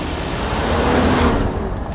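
Pagani Utopia supercar with an AMG engine driving along a twisty road, a steady loud engine drone with a gentle swell near the middle, heard from inside the cabin.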